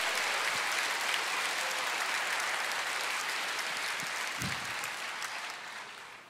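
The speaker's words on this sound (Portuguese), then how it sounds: "Pode aplaudir, glorifique a Deus." A church congregation applauds during a sermon, with steady, sustained clapping from a large crowd that holds a moderate level throughout and fades slightly at the end.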